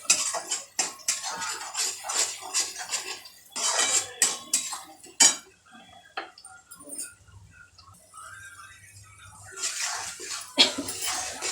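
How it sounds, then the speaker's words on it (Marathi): Spice masala with garam masala is stirred and sautéed in a pan for a pea and potato curry, with bursts of close metallic clinks and scraping from the utensil, a quiet stretch midway, then more stirring. "याला चांगलं मिक्स करून परतून घ्यायचं आहे."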